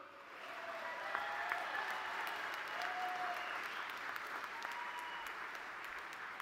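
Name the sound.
graduates applauding at commencement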